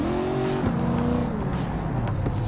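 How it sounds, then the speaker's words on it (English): A super-powered sports car in Cyberpunk 2077 drives hard, its engine droning in layered tones whose pitch dips and shifts as it changes speed, loud and close, with a brief sharp knock partway through. "Jackie's car is a super-powered sports car running on Chew-2, the super fuel of the future."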